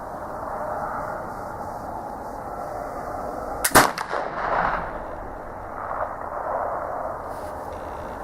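Traditions Pennsylvania pellet flintlock rifle firing a 90-grain charge outdoors, a single sharp loud boom followed by a rumbling echo that fades over several seconds.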